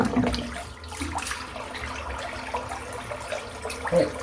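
A hand swishes and splashes in slick water in a sink, with gentle, continuous sloshing close by and small drips, no talking.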